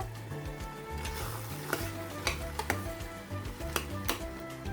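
Breadfruit curry being stirred in a pot, with a steady sizzling scrape and sharp, irregular clicks of the spoon against the pot, close and fairly loud over faint background music.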